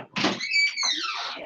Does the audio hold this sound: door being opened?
yes